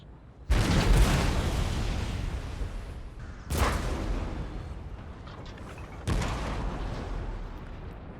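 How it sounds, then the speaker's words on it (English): Three heavy cannon blasts from Napoleon: Total War artillery firing into an enemy flank, each a sharp boom at roughly three-second intervals followed by a long rumbling decay. "Cannons are firing off into their flank, ripping through the unit"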